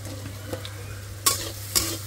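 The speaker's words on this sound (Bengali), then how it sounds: "মাছটা হলো ভুনা করে নেব এখন আমি। পেঁয়াজ দিয়ে দিলাম।" Hilsa fish cooked down with onions sizzles steadily in a pan, broken by two sharp scraping stirs of a spatula near the end, with no talking.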